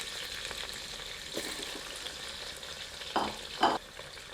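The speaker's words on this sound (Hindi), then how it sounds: "मिलाकर 3 से 4 मिनट मध्यम आंच पर भूनते हैं।" Chicken frying on medium heat in a pan with red chilli masala, a faint steady sizzle broken by a few short scraping stirs near the end.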